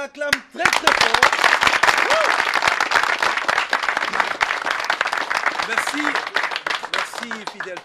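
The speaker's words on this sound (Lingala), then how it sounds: "On l'acclame très très fort." Loud, sustained studio audience applause for a Christian choir on a variety TV show bursts in after a brief pause and continues steadily throughout, dense clapping with scattered cheers and shouts.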